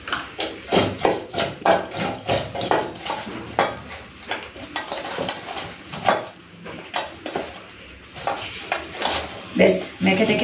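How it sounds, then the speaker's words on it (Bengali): Eggplant slices being mixed by hand with salt, turmeric, sugar and chili powder in a metal bowl or plate, giving repeated clattering, scraping and tapping sounds in an irregular rhythm, close and fairly loud. "বেশ মেখে টেকে নিলাম"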